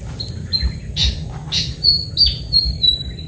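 Several high, thin bird calls and chirps repeat at irregular intervals over a low, steady rumble of background noise.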